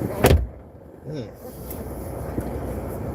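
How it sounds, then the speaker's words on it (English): A solid thump of a Willys Jeep CJ door shutting close by, followed by wind noise and a brief murmuring voice against steady outdoor rumble. "Door closed."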